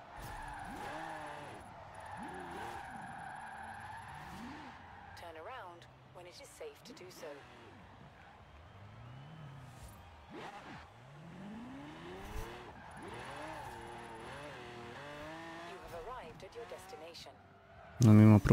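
A car in the video game Forza Horizon 4 squeals its tires through repeated drifts and skids, the rising and falling engine whine recurring throughout at moderate volume beneath someone talking.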